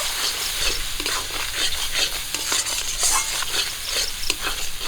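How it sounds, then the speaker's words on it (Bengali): Ground spices, including chili powder, turmeric and salt with ginger-cumin paste, frying in a pan for a fish curry. A loud, steady sizzle runs under rhythmic scraping and stirring strokes close by, with no talk. "সব কিছু মশলা আমি ভেজে নিয়েছি"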